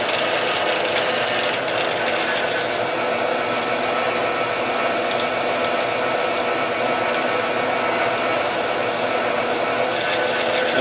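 An HSS drill bit bores a hole through a hardened steel grader blade, a steady loud grinding chatter that runs unbroken and close for the full stretch.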